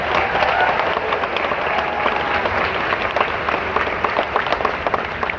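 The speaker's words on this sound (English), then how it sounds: "Yes, give them that round of applause." An audience at a Disney's Hollywood Studios 35th anniversary show bursts into sustained applause, a dense wash of many hands clapping with crowd noise and a few cheers, steady and loud from start to finish.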